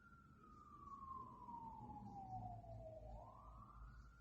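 Distant emergency siren outside in Milwaukee, Wisconsin, a single faint wailing tone sliding slowly downward then rising again over low traffic rumble, no voices.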